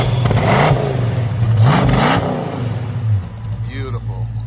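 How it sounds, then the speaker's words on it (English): A Ford Mustang engine revs loud and close, rising and falling through a few throttle blips before settling to a steady idle rumble, with voices talking over it. "You get one more rev before we end the video."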